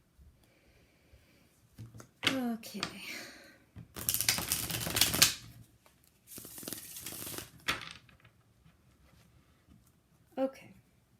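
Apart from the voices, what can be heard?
shuffling a deck of tarot cards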